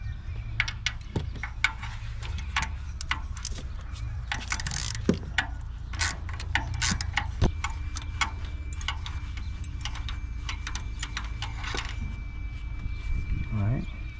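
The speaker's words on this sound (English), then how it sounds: "Now we're gonna use a 14mm spark plugs removal tool." A 14mm spark plug removal tool ratchets on a BMW N63 V8 engine in a 2011-2016 BMW 5 Series F10, giving scattered clicks and mechanical ticks close by, with someone talking in between.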